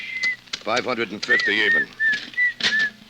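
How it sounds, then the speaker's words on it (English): Short, bright whistled notes repeat in a wavering tune, mixed with someone speaking briefly. "stop that creepy whistling, will you?"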